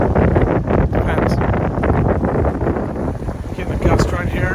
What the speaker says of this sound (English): Getting a gust right here.